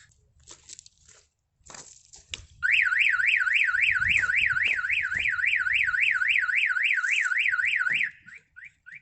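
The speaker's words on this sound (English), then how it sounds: "So if someone wants to apply a sharp object to any of the windows, the alarm will trigger." A loud Mercedes-Benz Vito van alarm, set off by its glass break sensor, suddenly starts wailing in a fast warbling siren pattern, sounding steadily for about five seconds before stopping, after some faint knocks and clatter.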